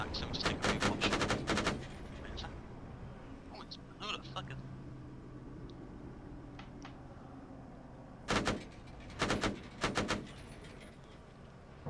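Gunfire in the military shooter game Arma: a sharp burst of rapid shots opens, sparse distant pops follow, then more loud volleys near the end, with voices in between.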